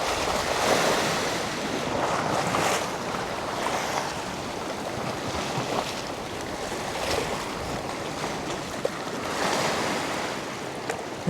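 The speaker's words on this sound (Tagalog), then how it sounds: "Hintayin natin yung alon, hintayin natin yung alon." Ocean waves wash continuously against the shore where someone is fishing with a travel rod, a loud, steady surf roar with surging swells and wind buffeting the microphone, and no voices.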